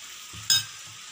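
A short wet scrape of a spoon stirring batter made with oil and dry ingredients, one quick close stroke over a quiet background.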